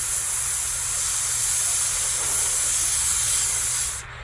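A singer holds a long, steady hissing S on the last bit of breath after blowing out most of the air, loud and close, cutting off sharply near the end.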